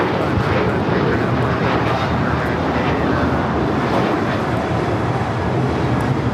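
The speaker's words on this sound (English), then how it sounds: "613 taking off to Chicago on the 737-800" An American Airlines Boeing 737-800 jet roars on takeoff at LAX, a loud, steady broadband engine rumble filling the air without break, heard outdoors from the airport spotting area.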